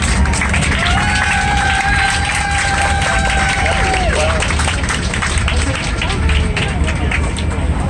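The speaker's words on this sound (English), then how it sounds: "there was a thunderous round of applause for the pilot in the plane" Airplane passengers applaud the pilot after landing at Dallas Fort Worth, dense clapping and cabin crowd noise filling the cabin, with a faint tonal whine running underneath throughout.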